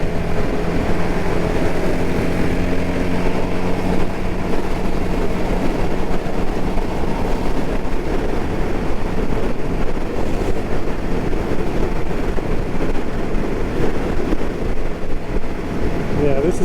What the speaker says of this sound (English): The bike just sounds a lot more at ease with this 18 tooth sprocket.